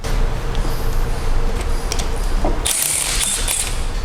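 A ratchet wrench clicks rapidly and close while undoing a bracket held by two different-sized bolts on a hybrid car, with sharper metallic rattles bursting in near the end and no talk.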